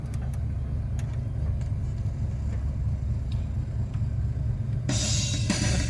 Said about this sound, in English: let's go for a cruise and see what sounds it's all good.